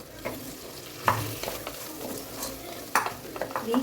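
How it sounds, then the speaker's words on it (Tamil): Tomatoes with curry leaves being sautéed and mashed in a pan for Tamil arisi paruppu rice: a steady close sizzle broken by scraping stirs and a few sharp spoon knocks against the pan, with no talking. "நல்லா குழச்சி விட்டுக்கோங்க தக்காளியை."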